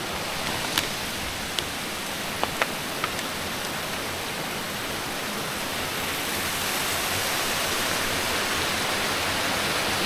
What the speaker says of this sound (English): You saw that little waterfall.